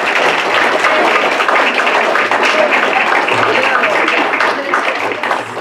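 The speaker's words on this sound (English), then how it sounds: "Let's have one more round of applause for all the new inductees." A crowd at a Rho Kappa social studies honor society induction ceremony applauds the new inductees, giving loud, sustained clapping that fills the room from start to finish and fades slightly at the end.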